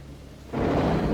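Rain and thunder in the video game Jurassic Park Operation Genesis: a quiet stretch gives way to a loud, broad wash of storm noise that swells about halfway through and holds steady.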